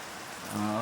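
Morning rain falling steadily as a soft, even hiss that swells slightly louder toward the end, with a low tonal hum underneath and no clear talk.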